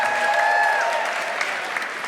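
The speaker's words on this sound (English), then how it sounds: "A round of applause." Audience applause at a comedy show, a continuous crowd clapping wash with some whistling tones early on, moderately loud and fading slightly toward the end.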